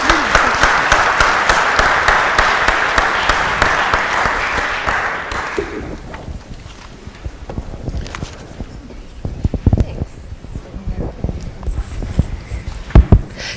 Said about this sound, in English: Please give us a loud round of applause for them.